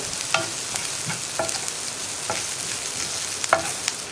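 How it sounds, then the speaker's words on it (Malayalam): Onions sauté in a pan for masala dosa filling, a steady close sizzle broken by occasional scrapes and taps of a stirring spoon, with no talk. "നിങ്ങൾക്ക് സവോള കടിക്കാൻ കിട്ടുന്ന പാകത്തിൽ വേണ്ടെന്നുണ്ടെങ്കിൽ കുറച്ചുകൂടി വഴറ്റിയെടുക്കാം."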